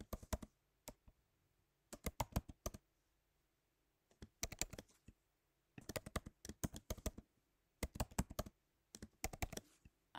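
Password entered on a computer keyboard: quick clusters of crisp key taps in about six bursts, separated by silent pauses, close and clear with no talking.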